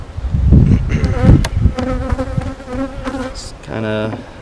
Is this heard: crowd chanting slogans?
no